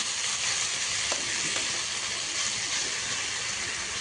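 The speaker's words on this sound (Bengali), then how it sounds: "দেখো আমি পটলটাকেও দিয়ে দিলাম" Pointed gourd (potol) curry sizzling in a pan as it is sautéed, a loud steady frying hiss with a few faint spoon taps and no talking.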